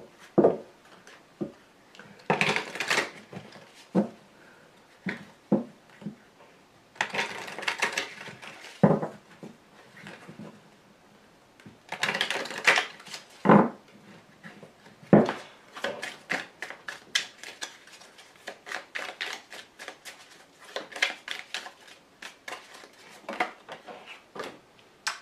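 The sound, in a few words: tarot cards being handled and laid down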